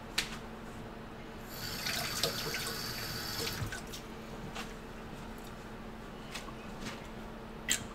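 Tap water runs steadily into a sink while a rag is rinsed under it in a kitchen during hamburger preparation, a close, continuous splashing stream with a few small drips and clinks.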